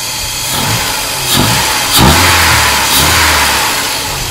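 A Mercedes 190E engine revs up repeatedly while accelerating, loud and close, with several rising bursts over a steady idle-like rumble and no voices.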